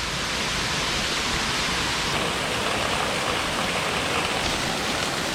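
A steady, loud roar of a waterfall in Bali, a continuous broadband rush of falling water that fills the scene without pause.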